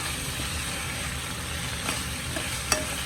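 Mutton and spinach curry is stirred in a pan with a steady low sizzle and faint scraping, a couple of soft clinks of the utensil against the pan near the end.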